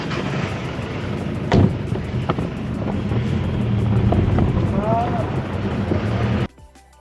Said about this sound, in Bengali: আমরা আমাদের ওটিপি দিয়েই ট্যাক্সিতে উঠে পড়লাম। কলকাতার সেই ট্র্যাডিশনাল হলুদ ট্যাক্সি।